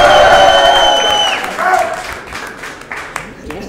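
Crowd at a rap battle in Lyon cheers and applauds loudly, the clapping and shouts fading slightly as a voice with an amplified musical tone trails off at the start.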